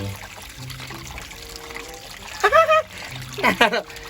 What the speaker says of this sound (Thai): มาอาบน้ำอาบน้ำก่อนมันเหม็น